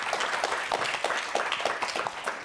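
Forum audience at an entrepreneurs' event applauds a speaker, a moderately loud, steady patter of many hands clapping with a rhythmic pulse, no voices over it.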